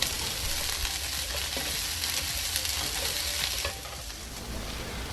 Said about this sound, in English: Add jalapeno. Toss for 30 seconds in medium heat.